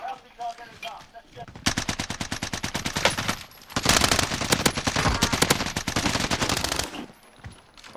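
Automatic weapon fire in the video game Warzone, rapid sustained bursts of gunshots in two long strings separated by a brief pause, loud and close, with faint talk at the start.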